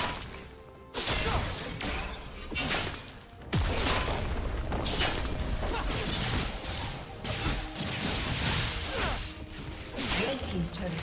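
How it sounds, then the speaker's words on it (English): Turret destruction in League of Legends amid a busy mid-lane fight, heavy crashing booms and whooshing ability effects layered densely, with a game announcer voice speaking over the action. "Red team's turret has been destroyed."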